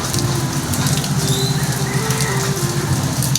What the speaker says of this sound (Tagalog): bumuhos na ang malakas na ulan